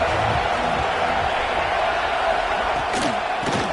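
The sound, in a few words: football stadium crowd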